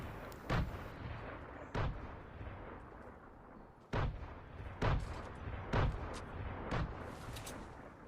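Grenade explosions in the video game Fortnite: a string of about seven sharp, booming blasts at irregular intervals over a low rumbling background.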